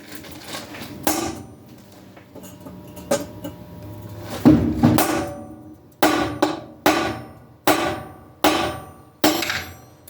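Hammer striking a cold chisel cutting into plexiglass, sharp ringing metallic blows, a few scattered hits followed by a steady series of about seven evenly spaced strikes, close and loud.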